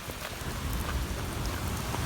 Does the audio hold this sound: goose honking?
no